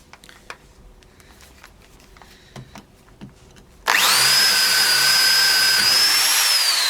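Corded power drill with an auger bit, switched on partway through after quiet handling clicks, then running loud and steady with a high whining motor tone that holds to the end.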